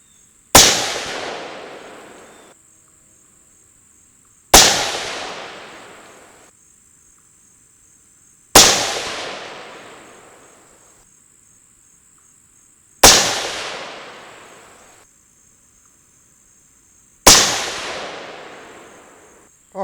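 Five loud rifle gunshots fired from a rifle topped with a Vortex Diamondback Tactical 6-24x50 scope, evenly spaced about four seconds apart, each a sharp crack with a decaying ring, a steady high tone in the background.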